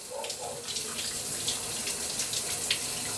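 Water running steadily in a shower, a continuous broadband hiss of spray with no speech over it.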